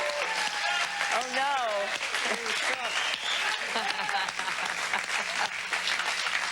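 A studio audience applauds a musician and his band in a steady, dense roar of clapping while several voices talk and laugh over it.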